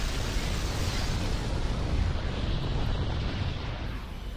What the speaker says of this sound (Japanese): 超新星爆発。